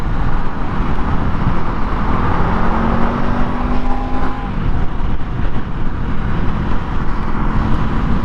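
Loud, continuous rush of wind and engine roar as a 2025 Honda Scrambler SCL500 accelerates up to freeway speed, with a faint rising engine whine under heavy broadband buffeting.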